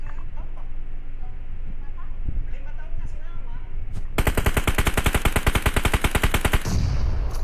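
Rapid automatic gunfire in the mobile battle-royale game PUBG Mobile erupts as a loud, dense burst lasting about two and a half seconds, after a quieter stretch of game ambience with faint voices.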